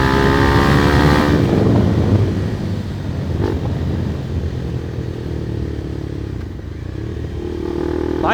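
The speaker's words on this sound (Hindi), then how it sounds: "एग्जॉस्ट आवाज़ सुनो भाई।" A Bajaj Pulsar NS400Z motorcycle's exhaust sounds as the bike rides slowly, a loud, close, steady engine drone with shifting pitch and some road clatter, and no speech.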